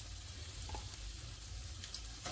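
Minced garlic frying in hot oil in a pan, a steady soft sizzle running throughout with a faint clink or two near the end, no voices.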